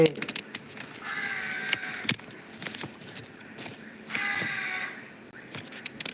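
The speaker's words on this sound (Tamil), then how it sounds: "காலங்கத்தால் காக்கா கத்துது" Crows cawing in a few loud bursts, harsh calls repeating with rustling and movement sounds in between.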